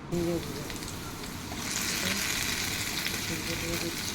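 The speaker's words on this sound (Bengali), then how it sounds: "আলুটা নাড়াচাড়া করার পরে এবার আমি এর মধ্যে দিয়ে দেব ঝিঙে টুকরোগুলো।" Ridge gourd pieces tipped into potatoes frying in a pan for jhinge aloo posto, a steady close sizzle that swells louder as the pieces go in, with stirring scrapes and no talk.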